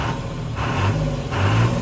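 A John Deere 3350 tractor engine runs close by, its revs swelling and easing in two rising surges with a steady low drone throughout, no voices.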